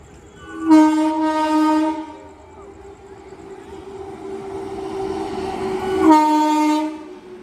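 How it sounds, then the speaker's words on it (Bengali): Train horns blare twice, once early and again near the end, over the low rumble of two trains, a Lalgola train and a Kalyani Simanta local, arriving together at a station platform. "দুটো ট্রেন একসাথে ঢুকছে আজকে।"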